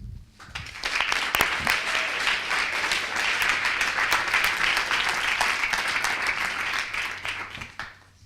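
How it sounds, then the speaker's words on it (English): A conference audience at an AGM in Paris bursts into sustained applause, dense clapping that holds steady for several seconds before tapering off at the end. "Give yourself applause, please."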